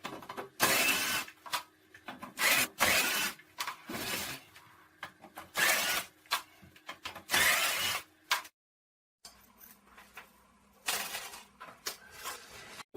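Screws are backed out of a wooden chair being taken apart for repair, heard as a series of short, close, rough whirring bursts separated by pauses, with no talking.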